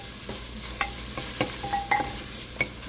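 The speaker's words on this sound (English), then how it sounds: "Meat's cooking pretty good." Sausage meat browning in a pan, a steady close sizzle broken by a handful of sharp pops and scrapes as it is moved around, moderately loud with no talking.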